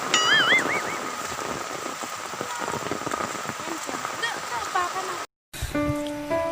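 Rain pours steadily while someone walks outdoors under an umbrella, a dense close patter with a brief voice and tonal sounds over it, then a sudden cut and a short different-sounding section at the end.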